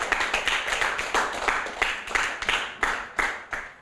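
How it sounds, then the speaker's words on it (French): Audience applause for a child presenting a book at a French reading event, with about a dozen distinct, fairly close claps in an uneven rhythm, heard on their own. "on applaudit Coralie"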